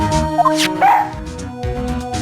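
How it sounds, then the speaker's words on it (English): A police dog in training in the Phoenix Wright: Ace Attorney video game gives a few short, sharp game-sound barks and yips over a steady musical background with no talking. "He's a canine police dog, still in training."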